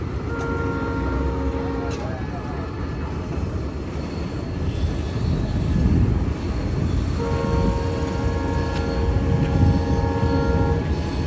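A train rumbles past close by on the Pamban bridge, a steady heavy roar of wagons rolling over the rails, with tonal horn-like blasts at the start and near the end.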